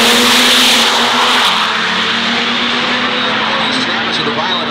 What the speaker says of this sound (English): The violent upshift.